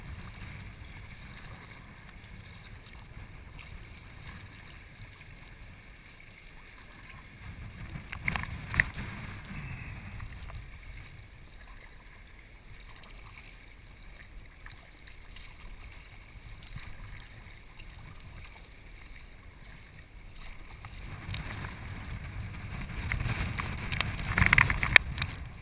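Kayak paddling into a headwind on open water, with steady wind buffeting the microphone throughout and two louder gusty swells of rushing air and water splash near the start and end.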